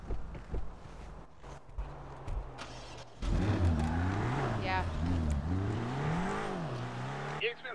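A car engine revs up and down in wavering surges after a quieter stretch of footsteps and shuffling, loud and close with pitch rising and falling repeatedly; voices talk over parts of it.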